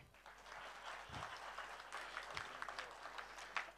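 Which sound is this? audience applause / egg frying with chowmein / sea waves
audience applause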